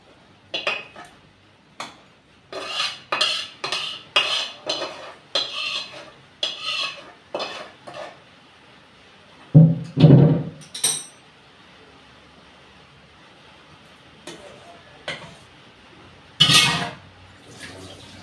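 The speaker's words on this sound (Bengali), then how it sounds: "এবার আমি একটা পাত্র নিয়েছি, পাত্রটার মধ্যে ঢেলে নেব।" Cooked spicy chicken is tipped and scraped out of a cooking pan into another pot, giving a run of rhythmic metallic clanks and scrapes, then a pause and a few louder clatters, close up with no speech.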